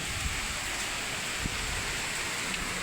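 Rain falling outdoors, a steady dense hiss of drops on surfaces that stays even and unbroken throughout, with no voices.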